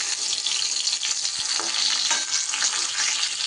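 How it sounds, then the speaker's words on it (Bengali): Flat beans fry in a pan with a steady, bright crackling sizzle and occasional stirring clicks, continuous and close. "এদিকে শিমগুলোও কিন্তু আমার বেশ ভাজা ভাজা হয়ে গেছে।"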